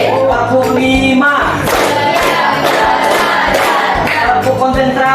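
Classroom of students clapping a counted rhythm pattern together in unison, loud and close, with a crowd of voices shouting and chanting along between the claps.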